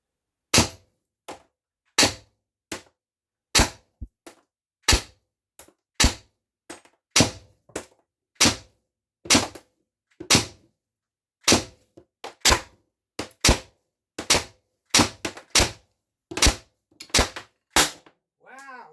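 Umarex TC68 gas-powered paintball marker firing about two dozen sharp, loud pops in quick bursts with short gaps, bolt forward and magazine fed, no talking.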